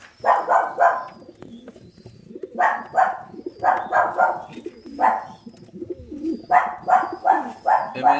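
Birds coo repeatedly in rhythmic groups of soft, low calls, close by, with brief pauses between phrases.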